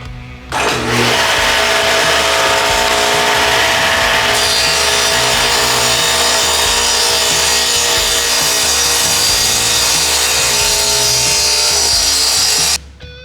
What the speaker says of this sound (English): Okay, now I'm going to cut the bevels.